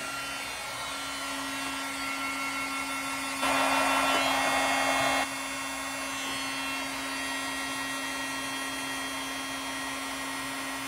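Heat tool heat-setting embossing powder, a steady close whirring blower hum that grows louder for a couple of seconds midway before settling back, with no talk.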